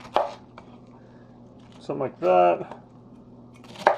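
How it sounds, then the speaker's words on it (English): Knife chopping kimchi ingredients on a cutting board: a few sharp close chops at the start and end, with a spoken voice in the middle and clattering handling sounds between. "And we're back to chopping."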